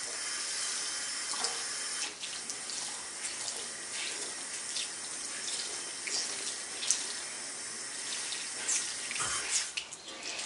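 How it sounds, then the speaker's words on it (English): Lukewarm tap water runs steadily into a sink for several seconds while a makeup sponge is squeezed under it, a constant hiss with occasional small clinks and splashes, close by and moderately loud. "run it under some lukewarm tap water and keep squeezing it until the water runs clear"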